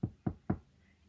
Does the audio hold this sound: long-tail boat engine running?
no